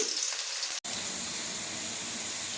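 Green chillies and chopped onions fry in hot oil for egg fried rice, a steady, close, hissing sizzle that holds throughout with one split-second break.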